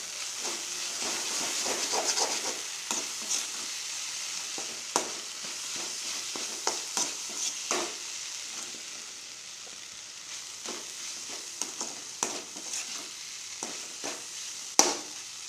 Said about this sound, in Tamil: இப்போ தேங்காய் பூ போட்டாச்சு நல்லா கிளறி விட்டுருவோம்